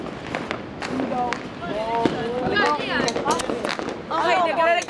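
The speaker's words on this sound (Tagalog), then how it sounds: "nagreklamo na po sila ngayon sa paputok na ginamit namin" Firecrackers going off at a Filipino celebration, several sharp pops scattered among lively shouting and talking voices, close and busy throughout.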